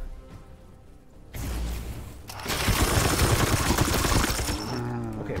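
Support gunfire in Warhammer 40k: Chaos Gate - Daemonhunters, a loud rattling fusillade of rapid shots with impacts that follows a heavy thump and lasts several seconds.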